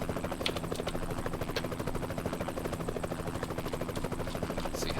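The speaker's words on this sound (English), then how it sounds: "hear that chopper just buzzing away in the background" Helicopter flying overhead in American Truck Simulator near the Grand Canyon, a steady rhythmic rotor chop throbbing continuously at moderate distance with no talk over it.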